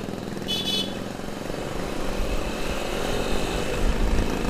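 A KTM motorcycle with a racing exhaust rumbles low and steady at a street checkpoint in Demak, a continuous engine drone under general road noise with no talk.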